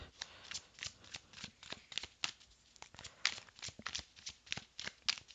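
Tarot cards are drawn from a deck and shuffled by hand, a series of quiet, close card riffles and crisp paper flicks in irregular bursts.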